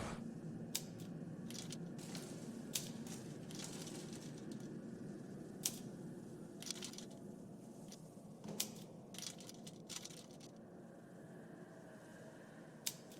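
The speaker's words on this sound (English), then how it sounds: "we now got to go back to the typewriter and type in voyage" Typewriter keys tapped one by one in The Room Two puzzle game, sharp irregular clacks spaced out over a steady low ambient hum, fairly faint, with no talk over them.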